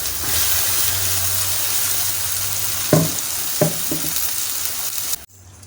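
Finely ground masala paste sizzles and fries in hot oil with onions for a Tamil ennai kathirikai kulambu, a steady crackle with a few stirring clatters before it stops abruptly.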